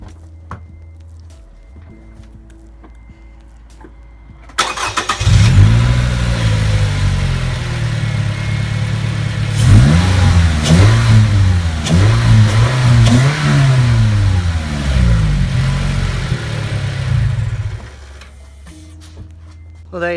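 Car fitted with a short ram intake, heard close up: a few quiet clicks, then the engine starts, idles, revs repeatedly in rising and falling surges, and shuts off, leaving faint clicks.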